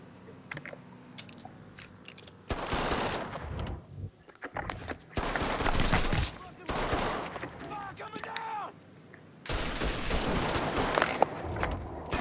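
Heavy gunfire from a big gun in Mafia III comes in three long, loud bursts separated by quieter gaps, with clinking debris and a voice now and then between the volleys.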